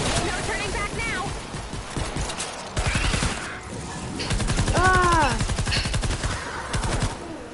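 Rapid bursts of video game gunfire rattle off against zombies, with dense volleys of automatic shots, louder in the second half, and someone talking over the shooting.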